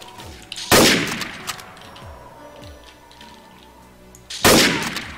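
A sniper rifle fires in the multiplayer shooter game Trouble in Terrorist Town. Two loud, close shots ring out nearly four seconds apart, with faint clicks and rattles in between.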